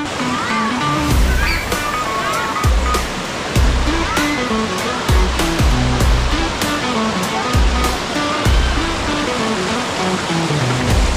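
Clear water from a reservoir at the foot of Mayon Volcano pours down in a steady, loud, close rush, with splashing and churning running through the whole stretch and no talk over it.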